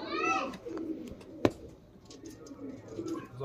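Punjabi Malwai pigeons coo softly in a loft, a soft throaty call at the start followed by faint murmuring and a single sharp click amid low background noise.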